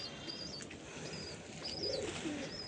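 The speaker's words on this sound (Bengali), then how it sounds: "এই বিল্ডিংয়ে কিছু কবুতর আছে" Pigeons kept in a damp building coo softly and flutter close by, with a few brief chirps over a steady background hiss and no talking.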